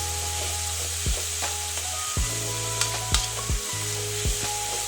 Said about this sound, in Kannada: ಈರುಳ್ಳಿಯನ್ನು ಹಸಿ ವಾಸನೆ ಹೋಗುವವರೆಗೂ ಇದನ್ನು ಹುರ್ಕೊಳ್ಬೇಕು